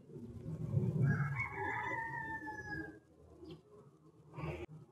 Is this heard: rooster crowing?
yes